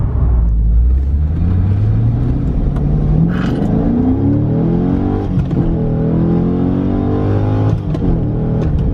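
A Chevrolet Corvette C6 Grand Sport with a six-speed manual drives along after a rebuild from wreck damage, its engine note climbing through rising harmonics as it accelerates, loud and close, with a steady low rumble underneath and no talking.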